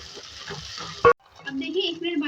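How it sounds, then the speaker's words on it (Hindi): Ginger-garlic paste fries with bay leaves in a pan for restaurant-style cholai saag. A soft sizzle and stirring run under a woman's speech, with one sharp loud clack midway before the frying resumes. "इस तरीके से इसको भी हम फ्राई करेंगे इसके साथ।"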